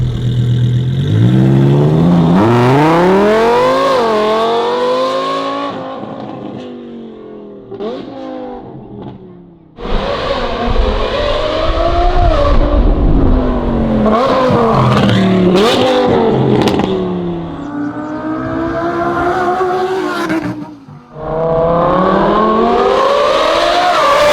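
Lamborghini Huracan fitted with an F1-style exhaust screams through repeated loud revs, pitch climbing and falling in long sweeps with brief drops between bursts, close and aggressive with no talking.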